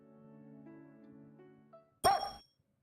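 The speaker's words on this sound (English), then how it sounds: "Koromaru suddenly barks at me." A dog's single short bark in the Persona 4 Arena Ultimax fighting game, bursting in sharply after a soft, steady musical drone and quickly fading.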